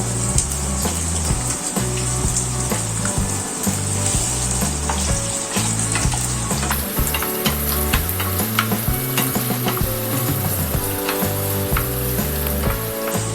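Chopped onion, garlic and green chili sizzle steadily in hot oil in a pan while being stirred, a loud continuous frying hiss broken by frequent scraping stirs, with no talking.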